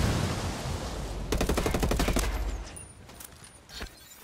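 Heavy automatic gunfire in Ghost Recon Wildlands, a dense rapid burst of shots up close that rattles on for about a second before trailing into scattered echoing reports.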